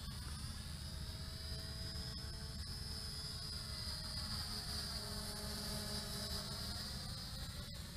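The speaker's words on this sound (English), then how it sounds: "And you can finally control this quadcopter's flight." An Eachine E511 foldable RC quadcopter flies nearby with a steady, thin whine from its motors that holds constant and moderately faint throughout, with no talk.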